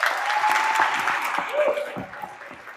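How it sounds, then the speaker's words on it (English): An audience at a school recognition ceremony gives students a steady round of applause that fades slightly toward the end, with faint voices mixed in. "Can we give them one more big round of applause?"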